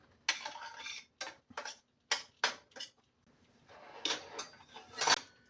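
A spatula stirs onion in melted butter in a pan, making a series of irregular scraping and clinking strokes, each short and fairly close, separated by brief pauses.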